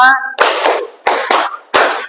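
A classroom of students claps in a counted pattern: a brief voice opens, then three separate bursts of loud group clapping follow with short pauses between.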